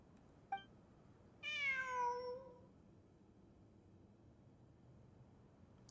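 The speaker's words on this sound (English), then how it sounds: "I'm not hearing things. It really is a cat." A cat meows once in Genshin Impact, a single clear, drawn-out call rising then falling, heard alone over a quiet background after a faint brief chirp.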